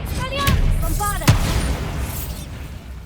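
A Bombarda blasting spell in Hogwarts Legacy: a sharp magical burst with a brief boom and a sparkling whoosh, preceded by a shimmering casting tone, fading out over a few seconds while a voice speaks.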